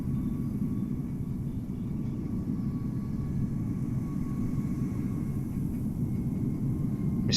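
An airliner without livery passes at Amsterdam Schiphol in Microsoft Flight Simulator, in cloudy weather, as a constant, broad jet-engine rumble of steady loudness with no talking.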